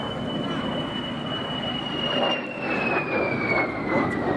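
A de Havilland twin-boom jet fighter flying past at an air show, a steady roaring jet whine with a high tone that slowly falls in pitch as it passes.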